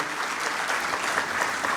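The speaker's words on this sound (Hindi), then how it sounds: "ऐसे मनसुख मांडविया जी के जोरदार ताली बजा के स्वागत करें" An audience in Indore gives loud, sustained applause to welcome a health minister at a public event; continuous dense clapping, close and even throughout, with no voices over it.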